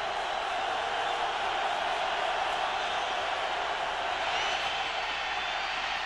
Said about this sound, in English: The crowd yelling defense on its feet.